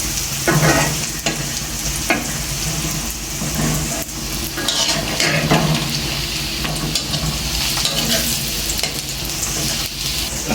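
Sliced onion and green chili sizzle continuously in a pan, close and loud, while a spatula stirs and scrapes against the metal at an irregular pace, with occasional clinks of utensils.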